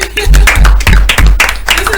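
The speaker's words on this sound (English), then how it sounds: "come and clap for yourselves" Several bursts of hand clapping in quick succession, loud and close, with voices mixed in between.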